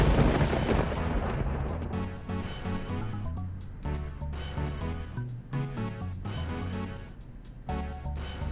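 Steady thunderstorm ambience of continuous rain with low rumbling thunder, played back from a rain-sounds webpage; a dense, even wash with a few swells and dips throughout.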